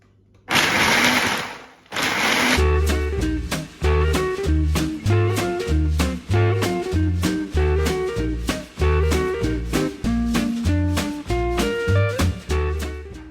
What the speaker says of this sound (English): Apparently my food processor is kind of shot.